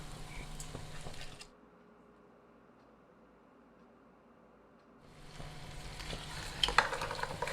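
Crab pieces fry in masala in a pan, giving a soft, close sizzle with light stirring scrapes. The sound drops almost to silence midway, then resumes and builds toward the end, with no talking.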